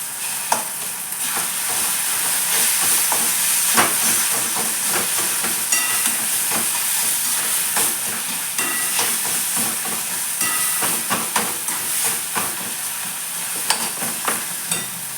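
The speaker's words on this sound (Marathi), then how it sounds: "भिजलेलं वांग त्याच्यात चवीनुसार मीठ टाकायचं छान परतून घ्यायचं" Soaked eggplant pieces are stir-fried with salt in a pan, a continuous close sizzle and hiss broken by repeated scraping, tapping stirs, with no one talking.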